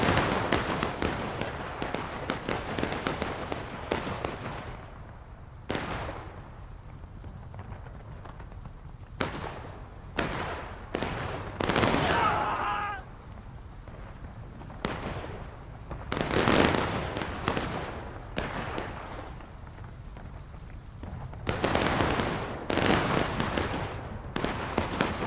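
Massed musket volleys in the Civil War game War of Rights crack out in repeated sharp bursts, some ragged and some in tight clusters, over a low battlefield rumble.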